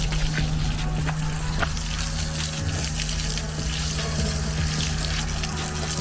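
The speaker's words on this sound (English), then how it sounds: "Wash out the sewer pipe." Water from a hose rinses out an RV sewer pipe at a dump station, a steady continuous rush and splash with a low hum beneath, loud and close, running unbroken with no talking.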